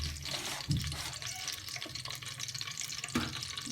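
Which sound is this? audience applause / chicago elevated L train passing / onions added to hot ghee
onions added to hot ghee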